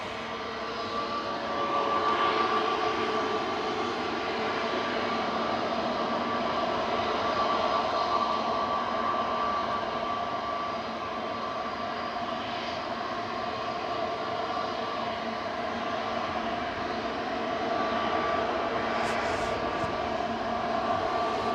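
An Airbus A320neo departs from an airport in a long, steady jet roar at moderate distance. The sound swells after a couple of seconds and holds with a faint tonal whine on top.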